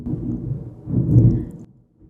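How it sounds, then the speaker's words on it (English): Thunder from a severe thunderstorm outdoors rolls as a deep, loud rumble that builds, peaks midway and cuts off, with no talking over it. "we're having a really bad thunderstorm. I'm not sure if you can hear it."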